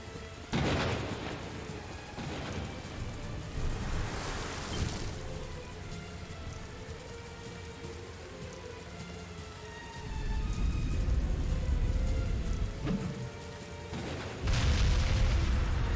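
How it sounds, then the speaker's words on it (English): Steady rain falls throughout, with deep thunder rumbles swelling in and out around the start, middle and end, in the Ys VIII: Lacrimosa of Dana game as a storm breaks over a ship's deck. "It suddenly started raining."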